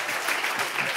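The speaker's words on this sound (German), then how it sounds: "Großen Jubel von der Belegschaft" Studio audience cheering and applauding as one steady, dense wash of clapping that stays loud and even for about a second, with no clear voices above it.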